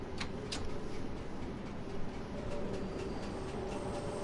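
A Bakerloo Line train in Train Sim World 2 runs with a steady rail rumble, and a few sharp ticks sound early on, fainter ones following at intervals.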